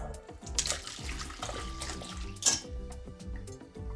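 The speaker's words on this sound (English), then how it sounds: "we just want to pour it into a mixing bowl" A warm, concentrated spiced mocktail mixture pours into a mixing bowl, making a steady, close liquid stream with no one talking.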